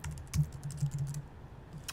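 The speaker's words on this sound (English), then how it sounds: "Select it, and I'm going to type out the word." Keystrokes on a computer keyboard during a graphic software lesson: a short burst of fairly quiet, close taps in an irregular rhythm, followed by a pause with little else audible.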